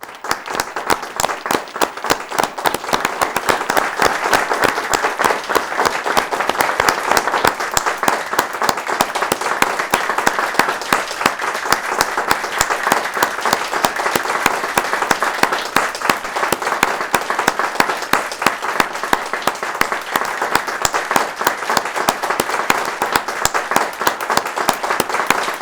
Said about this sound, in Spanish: que le demos un aplauso a las personas que hoy se acercan por información